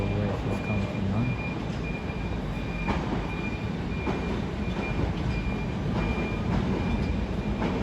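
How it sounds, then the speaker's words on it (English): A London Underground Hammersmith and City Line train rumbles through a terminus station with steady wheel noise and brief squeals from the rails. The sound stays loud throughout, and faint voices can be heard in the background. "Hammersmith and City Line service to Hammersmith arrived, and one off to Barking."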